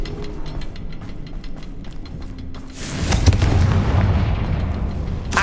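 Confringo spell blast in Hogwarts Legacy, a sudden fiery explosion partway through that swells into a loud rumbling boom and lingering crackle after a quieter stretch of ambient sound.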